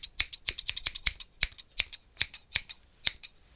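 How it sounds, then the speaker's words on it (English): Scissors snip repeatedly at close range, a dozen or so crisp metallic cuts in an uneven rhythm over near silence. "Some scissors."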